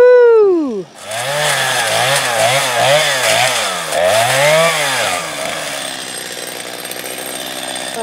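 A chainsaw cuts through wood outdoors, loud and close: the engine revs up from a wavering start, pulses through repeated surges of cutting load, then drops back toward a lighter idle.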